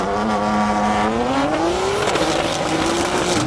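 A drag racing car at an airport airstrip accelerates hard with a loud, rising engine whine that climbs in pitch as it pulls away, alongside constant crowd and track noise.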